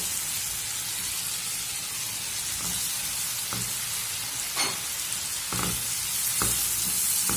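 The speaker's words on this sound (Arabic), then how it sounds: "وهنسيبهم يتسبكوا مع بعض شويه" Tomatoes with cumin, mixed spices and green coriander sizzle steadily in a pan, with a constant close frying hiss broken by a few sharp stirring clicks and scrapes.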